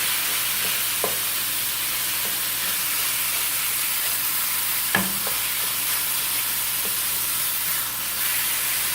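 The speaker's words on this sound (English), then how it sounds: "Just gonna brown the meat." Ground meat browns in a pan with a loud, continuous sizzle and hiss, punctuated by a few sharp taps and scrapes of a utensil stirring it.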